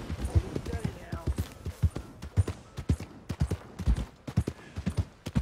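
Horse hooves clip-clop steadily at a riding pace in the video game Red Dead Redemption 2, a rhythmic series of dull thuds with faint background game ambience.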